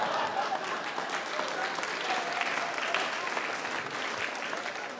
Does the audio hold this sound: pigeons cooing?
no